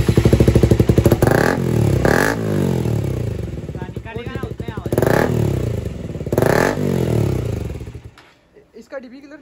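KTM Duke 125 motorcycle with a loud aftermarket exhaust fitted with a dB killer, revved repeatedly in close, crackling bursts that rise and fall over an idling burble before the engine cuts off; voices talk over it.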